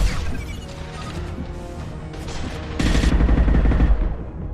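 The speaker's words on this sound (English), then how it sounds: "Watch out, flashbangs!" Flashbang grenades going off in the Mass Effect 2 Legendary Edition video game: a busy crash of impacts and gunfire, then a louder, heavier burst of bangs about midway that rings on, with no talking.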